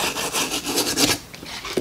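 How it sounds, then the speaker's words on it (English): A toothbrush wet with isopropyl alcohol scrubs Game Boy Advance SP parts and connectors in quick, close, rhythmic back-and-forth rasping strokes, with no voices. "So I'm going to use some isopropyl alcohol with a toothbrush. Over lightly all the parts, all the connectors."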